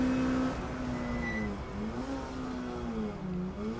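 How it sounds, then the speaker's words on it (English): A Holden Commodore race car laps the Snetterton circuit, its engine a loud, steady drone whose pitch repeatedly rises and dips as it works through gears and corners, with no voices over it. "it's lovely to watch that Commodore flying around the circuit"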